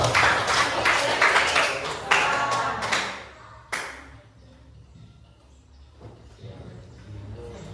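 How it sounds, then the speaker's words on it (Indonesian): A classroom of students claps their hands in a short burst of several seconds that then dies away, leaving quieter room sound and faint talk. "Iya, tepuk tangan dulu."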